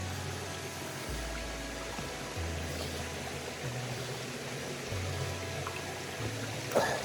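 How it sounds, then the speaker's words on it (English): Creek water on the Appalachian Trail flows and trickles in a soft, continuous wash as a hiker crosses, faint and steady, with a low rumbling undertone and a brief splash near the end. "Sorry, I got a little creek crossing."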